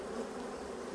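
A brief, steady drone of many honeybees buzzing close by at an open hive during a late-season inspection, with no voices.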